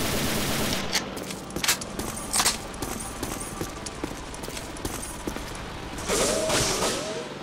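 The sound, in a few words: machine gun fire in the video game Banzai Escape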